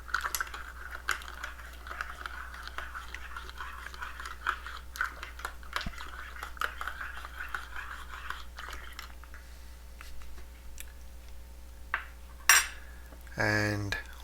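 A spoon stirs coffee sweetened with cane sugar and solid milk. A quiet room tone runs for most of the stretch, then a burst of quick metallic clinks against the cup arrives near the end.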